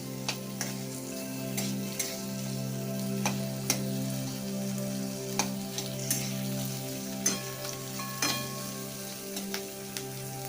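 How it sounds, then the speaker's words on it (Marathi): Onion frying in a couple of spoons of oil until lightly browned, a steady close sizzle with regular sharp clicks and taps of stirring, no voices. "दोन चमचे तेल घातले आपल्याला कांदा हा हलकासा ब्राऊन भाजून घ्यायचा आहे"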